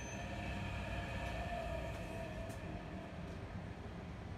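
The blower motor of a ducted AC indoor fan coil unit runs noisily with a worn bearing, giving a continuous rumbling whir with a thin whine above it, steady and unbroken with no talking.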